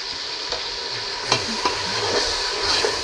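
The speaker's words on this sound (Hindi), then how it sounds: "ज़रा चम्मच चलाऊंगी" A spoon scrapes and stirs through whole spices such as cardamom and a cinnamon stick frying in hot oil in a pan, with a steady loud sizzle and a few clinking knocks against the pan.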